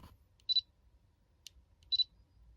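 Two faint, short shutter clicks from a Paper Shoot camera with a dead battery sound about a second and a half apart, with a tiny tick between them, against near silence.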